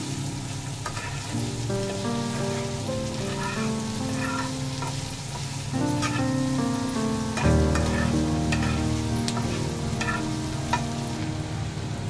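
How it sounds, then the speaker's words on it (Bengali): Sliced onion sizzles steadily in a hot pan while being prepared for a sandwich, a continuous frying hiss beneath background music. "তো পেঁয়াজটা আমি হালকা ভাজা দিয়েছি যাতে পেঁয়াজের গায়ে যে পানিটা থাকে সেটা ছেড়ে দেয়"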